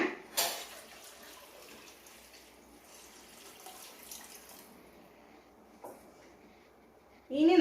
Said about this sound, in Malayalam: ബാക്കിയും കൂടി വെള്ളം ഒഴിച്ചു കൊടുക്കേ